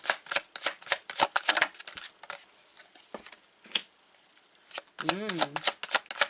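Tarot cards shuffled close up in quick, crisp bursts of riffling and flicking, with short pauses between runs and a voice talking briefly over them.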